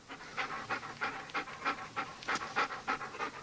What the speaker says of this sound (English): That, Sergeant, is the sound of a dog who's just run 23 miles.